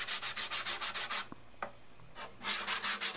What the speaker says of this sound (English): here it is sanded up to like 400